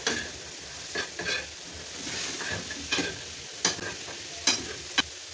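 Potatoes, onions and smoked sausages are stirred in a sizzling pan, with a spoon scraping and knocking in irregular clatters over a steady frying hiss, close and fairly loud.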